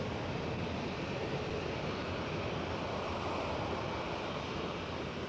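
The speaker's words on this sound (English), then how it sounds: "KLM 737 is speeding down the runway" KLM Boeing 737 accelerating down the runway for takeoff at Amsterdam Schiphol, a steady, distant broadband jet roar that holds evenly throughout, blended with wind noise and no voices.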